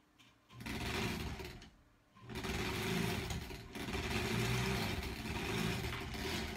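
A domestic sewing machine stitches pieces of an American Spool quilt block. Its steady motor whir and needle chatter run close and continuous, with one brief stop near the start before it starts up again.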